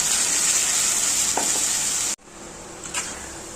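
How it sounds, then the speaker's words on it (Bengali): Potatoes sizzle steadily in hot oil in a pan with a bright crackling hiss, briefly interrupted by a stir before the frying settles again. "এখানে আলুটা একটু ভাজা ভাজা করে নিতে হবে"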